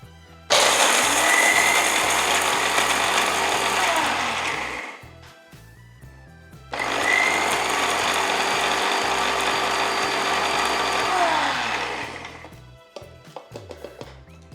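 An electric mixer grinds makhana (fox nuts) into powder in two loud, whirring runs of about five seconds each, separated by a short pause with rattling.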